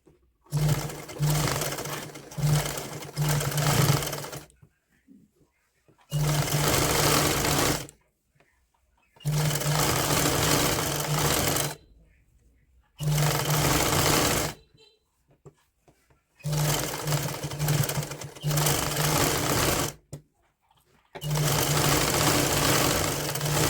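A sewing machine stitches a folded woollen waistband hem on a child's winter night suit, running in loud, close bursts of steady whirring separated by short silent pauses, six runs in total.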